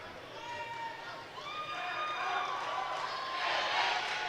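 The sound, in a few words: crowd cheering for Rivet at karate nationals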